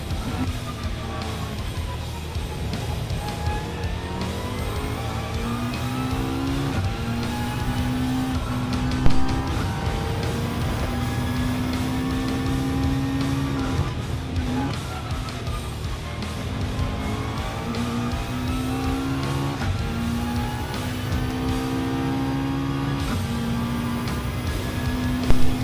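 A McLaren Group 4 race car roars around Interlagos in a racing game, a loud continuous engine note rising and falling through gear changes, with tire squeal and occasional skids, close and steady throughout with no talking.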